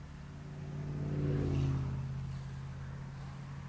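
Motorbike engine idling and revving up under a rider getting back on the bike after a long break, a steady low hum that swells to a louder peak around the middle before settling back to a continuous drone.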